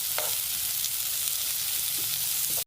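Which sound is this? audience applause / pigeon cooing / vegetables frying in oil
vegetables frying in oil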